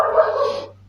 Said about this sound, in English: This dog always makes noise.